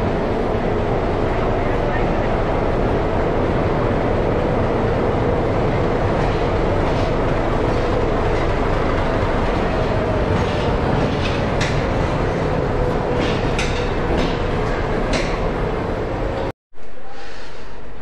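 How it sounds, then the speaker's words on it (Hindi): The Maharashtra Sampark Kranti Express stands at a Bandra Terminus platform, giving a steady, loud rumbling hum throughout, with people talking faintly in the background and a brief cut-out near the end. "फिलहाल हमारी ट्रेन है प्लेटफॉर्म नंबर 5 पे बांद्रा टर्मिनस पे"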